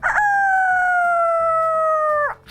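A person imitates a rooster crow with one long, loud, steady sustained call lasting about two seconds, alone and close.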